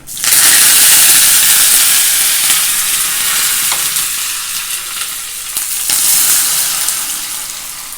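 Curry leaves crackle and sizzle loudly in hot oil while ginger rasam is being made, a sharp burst of frying that eases into a steady hiss.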